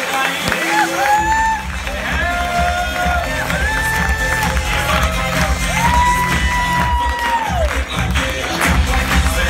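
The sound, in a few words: audience clapping and cheering welcome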